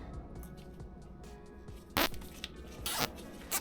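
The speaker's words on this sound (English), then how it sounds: "zip tie it with these massive zip ties that I got" A massive zip tie is cinched around an Airlift helper bag on a BMW X5, giving quick ratcheting zips in short bursts, close and fairly loud, with softer handling noise between pulls.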